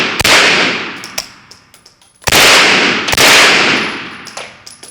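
Three sharp, loud 9mm shots from a pistol-caliber carbine at an outdoor range, each cracking close by with a decaying echo, spaced about a second apart.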